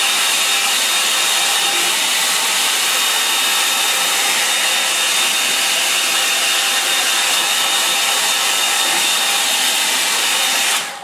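A hair dryer blows steadily over a watercolour painting, a loud, close, continuous hissing roar that holds for about eleven seconds and then cuts off abruptly at the end.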